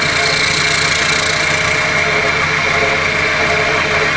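A wood lathe spins a sycamore blank at 1200 RPM, giving off a steady motor drone and hum that holds evenly throughout with no talking.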